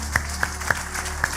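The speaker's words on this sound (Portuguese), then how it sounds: "Você pode aplaudir ao Senhor se você crê?" A few scattered, distinct claps ring out from a church congregation over a steady background hum. There are about four separate sharp hits spread across a short moment.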